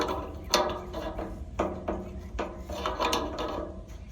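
A crescent wrench turns the shaft of an indoor AC fan motor, giving a series of close metallic clicks and clunks at an uneven pace, about half a second to a second apart, with no talking.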